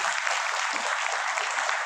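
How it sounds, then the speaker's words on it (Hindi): Steady, dense applause from a crowd at a West Bengal Mutawallis association gathering, sustained at an even level for the whole short stretch with no break and no voices over it. "और एक बार ज़ोरदार तालियां हो जाए"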